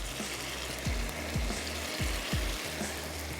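Minced meat with crushed red chilli and cumin frying in a pan, a dense continuous sizzle with several soft spoon scrapes at a regular pace, close and moderately loud, no talking.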